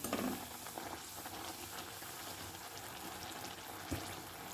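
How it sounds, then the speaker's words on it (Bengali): Small pieces of rolled dough fry in hot oil, a steady, even sizzle that holds throughout, close by and fairly quiet, with a brief soft bump near the end. "আমি একটা দিয়ে দিয়েছি তেলের মধ্যে। এরপর আমি এগুলোকে সব ভেজে নেব।"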